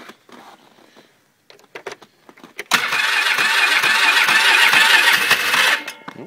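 Cold start attempt on a 2011 Polaris Sportsman 500 ATV after a night at minus 32: a few sputtering cranks and clicks, then a loud, harsh engine roar for about three seconds before it dies away.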